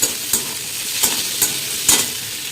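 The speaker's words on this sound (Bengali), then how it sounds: "পেঁয়াজ টমেটোগুলো দিয়ে ভেজে নিচ্ছি।" Onions and tomatoes fry in a pan, giving a steady close sizzle broken by four short scraping stirs spaced about half a second apart.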